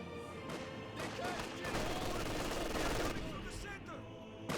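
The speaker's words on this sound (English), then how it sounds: "Grenadiers firing away, hitting the conscripts." Grenadier infantry firing rifles at conscripts in a Company of Heroes 2 match, a dense crackle of overlapping gunshots through the whole stretch with battle noise underneath.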